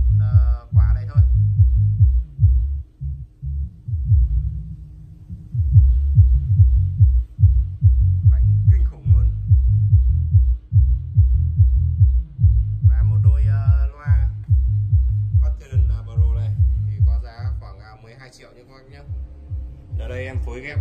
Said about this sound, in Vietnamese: Các bác hãy đeo tai nghe để cảm nhận sức mạnh của cục trầm này.